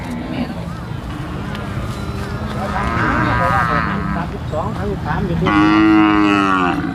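Cattle low and moo repeatedly at a buffalo and cattle market in Sikhoraphum, Surin, Thailand, the calls rising loud and near over a busy crowd murmur while people talk nearby.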